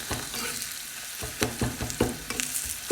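Chili powder and a little turmeric powder stirred through hot oil in a pan for a rice-side salad curry, a steady sizzle broken by repeated scraping strokes of a spoon, close and moderately loud, with no talking.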